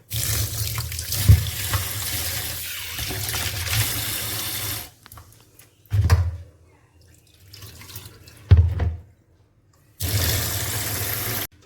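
Tap water gushes loudly into a bowl of rice being washed in a kitchen sink: a long run, two short splashes, then the tap flows again.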